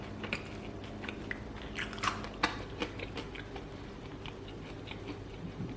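Crispy air-fried fries from a Khind ARF26 air fryer being chewed close to the microphone, a series of soft crunches and bites over a low background hum.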